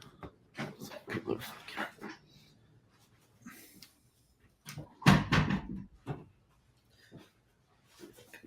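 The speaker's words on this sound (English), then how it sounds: "Let me close my door." A door is pulled shut indoors, with rustling movement and a firm thud near the middle, amid shuffling and brief, quiet background noise.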